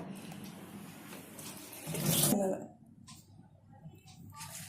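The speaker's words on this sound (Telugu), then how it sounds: "ఇమీడియట్గా దీంట్లో కోల్డ్ వాటర్ పోసేయాలండి" A voice talks, then cold water is poured onto boiled egg noodles in a short rushing splash lasting under a second before the talking resumes.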